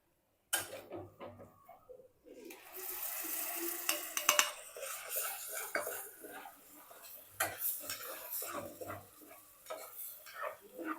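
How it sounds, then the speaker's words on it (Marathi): Ground tomato puree hits a hot tempering with asafoetida in a pan. After a brief silence comes a sudden loud sizzle, then continued crackling frying mixed with spoon clinks and stirring scrapes against the pan. "आता आपण ह्याच्यामध्ये हे टोमॅटो वाटून घेतलेलं होतं ते घालून घ्यायचंय"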